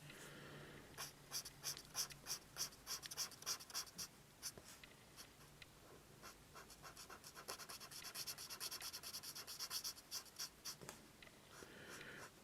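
Brush pens quickly drawing on paper, a close, quiet run of soft scratchy strokes in quick rhythmic bursts.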